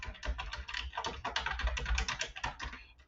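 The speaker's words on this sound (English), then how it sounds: "You'll type in your email address" Quick, steady typing on a computer keyboard while entering an email address at a login page, with dense close-up key clicks running continuously for a few seconds and no speech.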